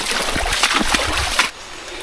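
A swollen creek runs high just after rain, making a loud, steady rushing and splashing wash of water close by, with a brief drop in level near the end and no talk.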